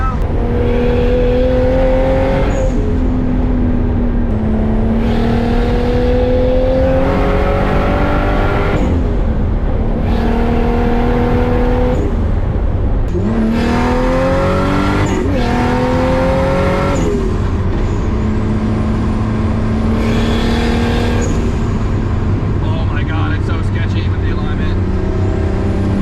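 A Nissan S13 coupe with a JZ engine swap on full boost accelerates hard on the street, loud and close, its engine note climbing repeatedly through the gears with brief drops at each shift.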